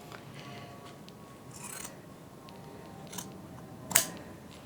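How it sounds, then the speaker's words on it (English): Faint snipping of scissors trimming quilt fabric, a few soft cuts over quiet room noise, with one sharper snip near the end. "I use my scissors."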